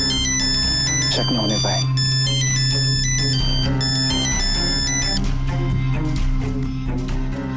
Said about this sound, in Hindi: भाई तू फोन उठा